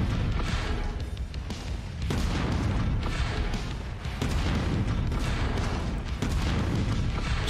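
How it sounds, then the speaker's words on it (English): Heavy, booming autocannon fire in MechWarrior 5 pounds in dense, continuous volleys, loud and close, with a brief lull midway before the barrage resumes. "I like the sound of the autocannons"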